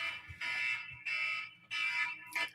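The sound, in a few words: smoke alarms going off, cascading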